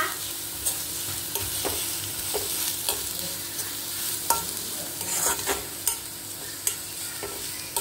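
Chopped onions frying in a pan for a homemade chicken burger, a steady sizzle with regular scraping stirs every second or so, close and moderately loud, no voices.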